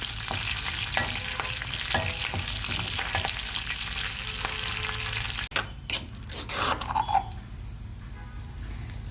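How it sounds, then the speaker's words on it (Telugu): Tempering seeds, garlic, dried red chilies and curry leaves sizzle loudly in hot oil for a raw tomato chutney, a dense steady crackle that drops suddenly midway, followed by a few clattering stirs and quieter frying. "వేడైన తర్వాత తాలింపు గింజలు, వెల్లుల్లిపాయ, ఎండుమిర్చి, కరివేపాకు వేసుకోవాలి."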